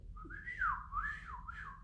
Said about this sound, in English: Sito and I like whistling.